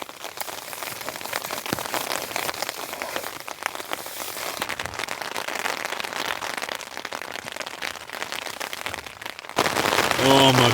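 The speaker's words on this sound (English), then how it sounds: "It looks like some rain's coming back" Rain patters steadily at a mountain campsite during a rainstorm, a dense, even wash of drops on surfaces with scattered sharper taps, growing louder and heavier near the end.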